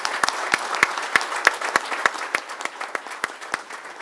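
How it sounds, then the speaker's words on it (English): A small group claps at the close of a webinar, with sparse, distinct hand claps at an uneven pace, fairly close and clear with no talking over it. "A big round of applause to all of us."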